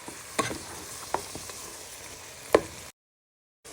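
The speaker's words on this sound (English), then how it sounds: "But first we just soften in our mushrooms into the pan." Mushrooms softening in a pan for wild rice soup make a steady low sizzle, with a few sharp scrapes or clacks of stirring, before the sound cuts off abruptly.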